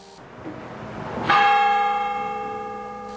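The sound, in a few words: church bell ringing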